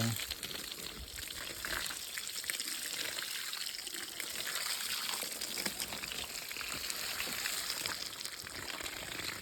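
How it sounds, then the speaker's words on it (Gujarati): Shampoo water is poured slowly over the head of a small animal being bathed, producing a continuous close, splashing gush of liquid that runs steadily without pause. "આપણે શેમ્પુ વાળું પાણી કરી નાખ્યું છે હવે આપણે પંચીને માથે નાખવી ધીમે ધીમે"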